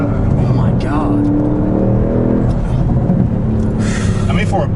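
A 2016 Audi S6 sedan accelerating hard, its engine rumbling and rising in pitch, with road noise and a person talking excitedly over the drive.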